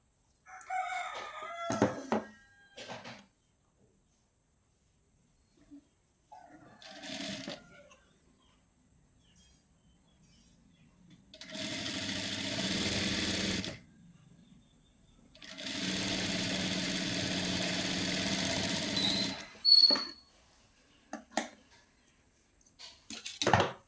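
Two bursts of a sewing machine stitching blouse fabric, each running steadily for a few seconds with a quiet pause between, plus light handling clicks and rustles before and after.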